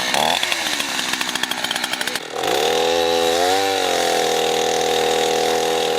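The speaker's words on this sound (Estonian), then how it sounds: "see saag ikka ei pidanud selle puuga vastu" A chainsaw rattles and strains up close, then settles into a loud steady whine, its engine pitch wavering as it runs on alone.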